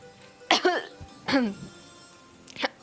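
Three harsh coughs come in separate bursts, the first two close together and the last shorter and quieter, with silence in between.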